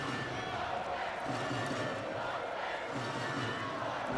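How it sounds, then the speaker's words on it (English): Norwegian handball fans in the arena at the Women's EHF EURO 2012 final against Montenegro, a steady roar of crowd noise and cheering that stays loud and dense throughout, with no break. "Norwegian fans cheering their team on."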